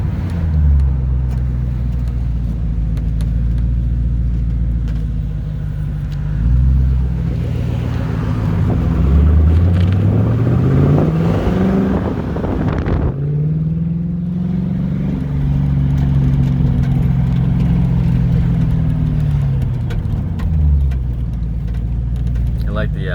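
A widebody 2007 Ford Mustang GT rebodied as a 1969 Mustang rumbles along with a deep engine note that rises and falls through several revs, heard from inside under road noise while people talk.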